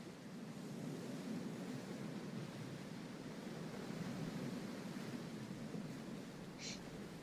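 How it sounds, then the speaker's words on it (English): Soft ocean waves wash steadily at a distance by a waterhole on a calm day, a continuous low, even surf hiss with no voices. "Beautiful soft sounds of the ocean."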